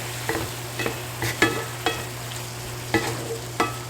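Tomato sauce for Indo-Chinese fried rice sizzling in a pan under a steady hiss, with about seven sharp clinks and scrapes from a spoon stirring the mixture, close and with no speech.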